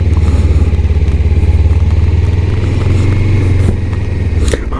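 A Triumph cruiser motorcycle running nearby at a hilltop summit stop, a loud steady throbbing engine pulse that holds evenly for several seconds before easing off slightly near the end.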